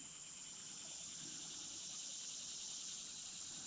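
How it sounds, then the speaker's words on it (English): Steady insect chorus of crickets along the Buffalo River footpath, a continuous high-pitched chirring drone that stays even and constant throughout, with no talking. "There's always bugs."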